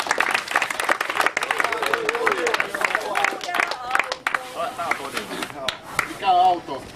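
Spectators clap for the winner of a nitro RC buggy race with a JQ Products THE Car buggy, scattered applause running beneath someone talking throughout.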